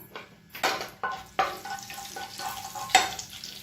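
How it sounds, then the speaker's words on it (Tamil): Cumin seeds and black pepper hit hot oil in a pan, crackling in several sharp sizzling bursts between quieter stretches, close and without speech. "எண்ணெய் சூடானதும் 1 டீஸ்பூன் ஜீரகம்,"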